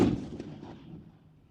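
A single loud report from an AK-50 rifle during a recoil spring test opens the clip, then a rumbling echo fades quickly to quiet.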